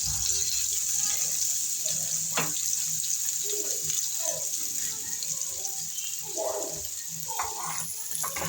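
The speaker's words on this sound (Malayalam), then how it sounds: "സവാള നന്നായി വഴഞ്ഞു വരുന്നുണ്ട്." Finely chopped onions fry in oil in a pan for a village-style soya dish, giving a constant bright sizzling hiss with occasional spoon scrapes and clinks close by.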